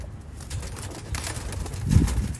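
Soft, low cooing of black-faced Sialkoti Sheikh pigeons close by, with a rounder coo near the end over faint background noise.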